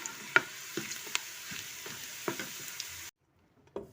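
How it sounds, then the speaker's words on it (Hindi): Saag greens frying in a browned onion tadka give a soft, steady sizzle broken by occasional spoon clicks and scrapes against the pan, then a sudden cutoff to near silence and one last knock. "हमने अपना साग डाल दिया है अपने तड़के में।"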